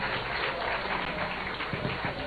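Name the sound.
audience applause for the Women and the Bamboo Orchestra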